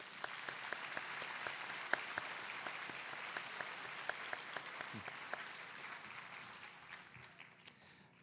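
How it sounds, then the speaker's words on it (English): Applause from the audience for graduates at a graduation ceremony, a steady wash of many hands clapping with sharper individual claps popping out, at moderate distance and fading slightly toward the end. "Let's give all of these graduates a round of applause."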